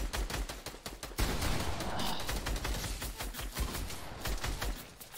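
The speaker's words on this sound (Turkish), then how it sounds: "Abi kim sıkıyor bana bu arada?" Rapid gunfire in a multiplayer shooter game, a shotgun among the weapons, with dense bursts crackling almost without pause for several seconds, shots coming from above and sounding loud and close.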